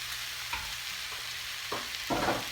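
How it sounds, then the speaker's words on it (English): Black beans being stirred into a vegan breakfast burrito filling frying over medium-high heat: a steady close sizzle with a few brief scraping stirs, the last one the loudest, and no voices. "Give this a quick stir."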